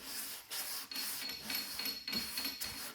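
Steady rhythmic strokes of 400-grit paper on a sanding block rub back and forth across CRE321 body filler on a '63 Cadillac Coupe DeVille, close and even with brief pauses between passes.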